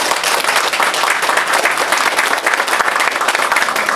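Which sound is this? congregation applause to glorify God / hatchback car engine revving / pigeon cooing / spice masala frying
congregation applause to glorify God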